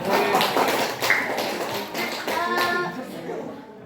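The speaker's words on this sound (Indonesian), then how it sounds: "kasih tepuk tangan buat Desta" Students in a classroom clap for a classmate, a burst of quick overlapping handclaps that tapers off, with children's voices mixed in.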